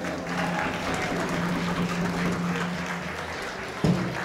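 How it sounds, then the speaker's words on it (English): Club audience applause at a swing band show, a steady round of clapping at moderate distance that holds evenly throughout, with a brief low thump near the end. "And how about a big round of applause"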